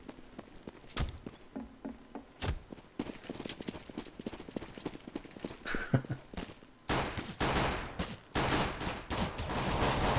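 Gunfire during a Counter-Strike match on the Inferno map, sharp irregular shots and rapid bursts, with dense sustained firing toward the end, under a faint background murmur.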